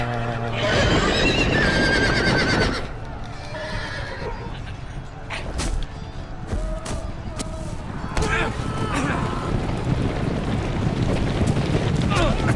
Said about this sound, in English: How's it feel to get trampled on by a bunch of horses?